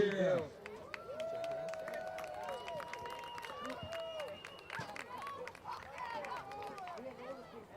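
A crowd at a peewee football game cheers and claps for the Rockaway Rockets cheerleaders, a loud, steady wash of applause and shouts mixed with voices.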